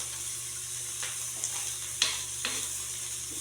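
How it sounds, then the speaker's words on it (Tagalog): Dried fish (tuyo) frying in a pan, a faint steady sizzle with a few sharp crackles and pops spaced a second or so apart, no voices. "Luto ko ng tuyo."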